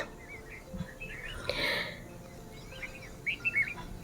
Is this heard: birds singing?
yes